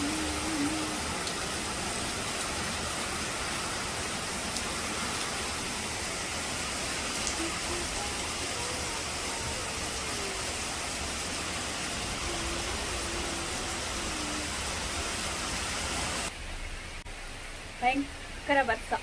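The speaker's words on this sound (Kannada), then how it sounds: "ಸ್ವಲ್ಪ ಮಳೆ ಬರ್ತಾ ಇದೆ ಅಷ್ಟೇ." Light rain falls steadily in a hometown village during a rainy spell, a broad even hiss that runs for most of the stretch before cutting to quieter sounds with a few brief knocks near the end.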